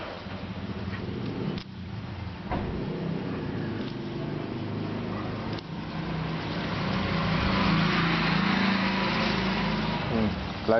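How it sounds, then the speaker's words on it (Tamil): Table fan motor with a newly replaced coil runs with a steady, droning hum, loud and continuous throughout, with a few faint clicks and brief touches along the way. "மோட்டர் எப்படி ஓடலான்னு ஸ்பீட் லைனை தொடுறேன்."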